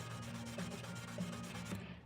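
A guitar is sanded by hand with 400 grit sandpaper in quick, even back-and-forth strokes, a soft close rubbing rhythm that stops at the end, with no talking.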